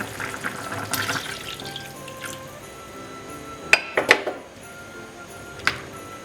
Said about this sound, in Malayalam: ഇനി നമുക്ക് ഇതിലേക്ക് തേങ്ങാപ്പാൽ ഫസ്റ്റ് പാൽ ചേർത്ത് കൊടുക്കാം